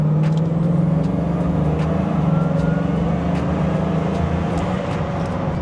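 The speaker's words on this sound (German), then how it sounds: "Du machst Gas, eine Sekunde Pause, die Turbolade macht Ladedruck" A Bugatti Chiron accelerating hard as its turbochargers build boost, a loud, steady engine roar heard from close by, with faint high whistles and clicks over it and no talking.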